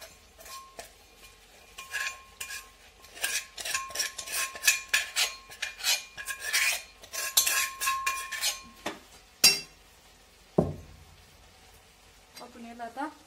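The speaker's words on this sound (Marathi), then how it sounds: "आपण याला आता हलवून घेऊ." A spoon scrapes and clinks against a pan while dry cauliflower sabzi with crushed peanut powder is stirred, giving a run of quick rhythmic scrapes followed by a few sharper knocks, with no talk over it.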